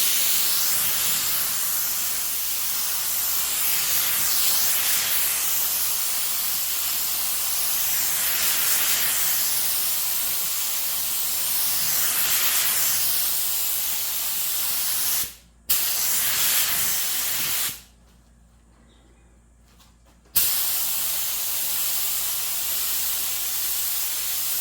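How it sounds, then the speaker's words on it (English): A paint spray gun hisses continuously while laying down coats of Galactic Ghost Blue paint over a black base, a loud steady airy spray that stops briefly twice before resuming. "I still have a lot of material in the gun, so I'm going to continue spraying some coats."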